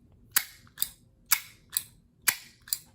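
An old lighter with a rusted-look, champagne-style design snaps open and shut: six crisp, close metallic clicks spaced about half a second apart, alone in a quiet room.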